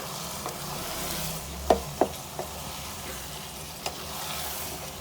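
Kata kat with coriander sizzles in a pan, a low steady fry with a few sharp spatula knocks and scrapes scattered across it, no voices.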